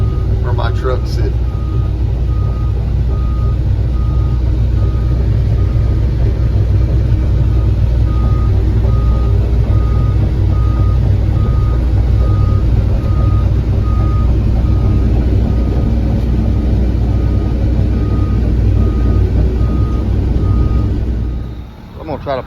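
A large track hoe's diesel engine drones loud and steady as the machine is parked, with a regular reversing beep repeating throughout before the engine noise dips near the end.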